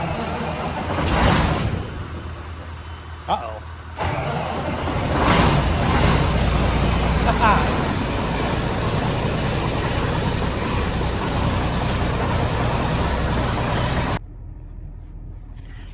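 Car engine cranking and then running roughly after a freezing, snowy Nebraska night. Low rumble stays steady for about ten seconds before it cuts off, with a brief exclamation from a voice near the start.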